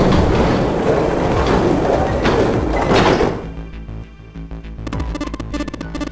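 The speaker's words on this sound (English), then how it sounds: "they both pushed, and the gate creaked open." A heavy gate in the video game 999 creaks and grinds open with a loud, sustained scraping rumble, followed by fainter clanking and metallic ticks as it settles.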